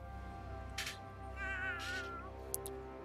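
A few short, clear cat meows from South Park The Fractured but Whole, closely spaced over a low steady game background hum, with no talk.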